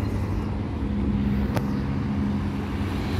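A city bus with a Caio body and Volkswagen engine moving on Avenida Pistão Sul in Taguatinga, DF, heard as a loud, close, steady engine and road rumble throughout the short stretch.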